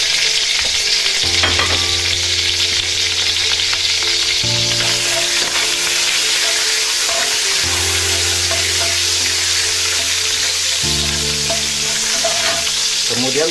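Bruised galangal, turmeric leaves, bay leaves and lime leaves fry in hot oil with a loud, steady sizzle and crackle, and occasional stirring scrapes. A low hum runs underneath, and nobody speaks.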